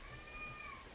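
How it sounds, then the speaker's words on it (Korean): Cats meowing at an animal shelter, a few thin meows drawn out over a low, steady background murmur. "고양이들이 들어오라는 소리야 지금."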